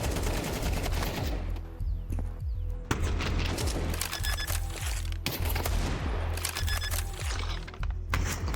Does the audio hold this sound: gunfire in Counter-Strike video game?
yes